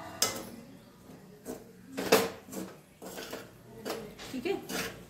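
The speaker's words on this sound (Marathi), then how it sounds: "थोडेसे हलवून घेते मी" A spoon stirring cooked kande pohe in a pan, a handful of separate clinks and scrapes of metal on metal with quiet gaps between them.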